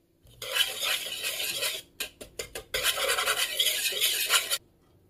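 A spoon scrapes and stirs cheese in a pot on the stove, a raspy metallic scraping that runs in bursts with a few short separate strokes in the middle, close and moderately loud.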